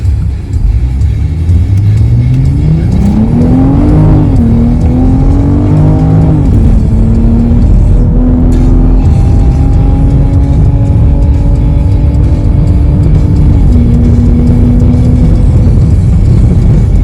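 A BMW M440i all-wheel drive accelerating toward top speed on the Bonneville Salt Flats in Utah, engine rising in pitch through several gear changes, then a sustained loud high-speed drone with heavy wind roar from inside the car.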